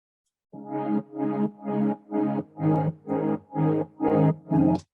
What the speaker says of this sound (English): I'm adding a small effect called sidechain effects.